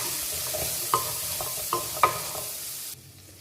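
Garlic and onion sauté in a pan for an okra tamarind curry. A continuous bright sizzle runs throughout, with a few clinks and scrapes from a stirring spatula, then the sound drops away abruptly near the end.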